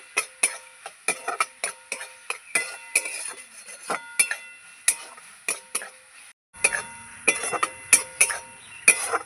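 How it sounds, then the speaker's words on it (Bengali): Meat sautéing with spices in a pan, stirred with a metal spoon that clinks and scrapes against the pan in quick irregular taps, close and crisp, with a brief pause and soft frying hiss toward the end; no talk. "একটু কষাবো মাংসের সাথে মশলাগুলো ভালো করে কষিয়ে নেব"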